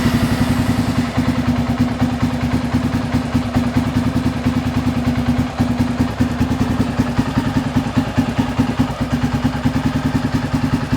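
A 1994 Honda XR650L with high-compression mapping and an upgraded CDI runs close by, a steady, loud thumping single-cylinder idle with rapid, even pulses and a slight clatter throughout.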